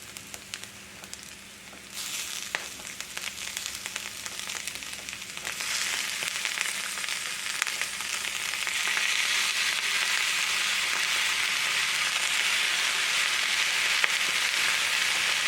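Sauerkraut sizzling as it goes into a hot pan, a crackling fry that swells after a couple of seconds and holds as a steady loud hiss, no voices.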